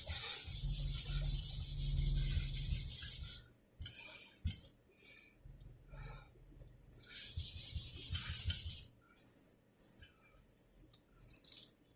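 A guitar body finish is rubbed and sanded by hand toward a mirror shine, with long loud gritty strokes broken by pauses and shorter scrubbing passes, close up and without speech.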